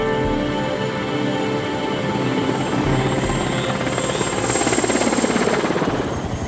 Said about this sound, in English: we heard a helicopter, and it was such a welcoming sound